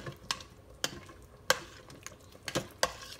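A spoon stirs country-style BBQ ribs coated in barbecue sauce inside an Instant Pot, giving a few sharp scraping clacks against the pot at irregular intervals over soft wet sizzling, close and fairly quiet.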